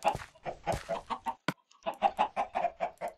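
Chickens clucking in the video game Minecraft, a quick run of repeated clucks with a brief pause midway, fairly close and without talk.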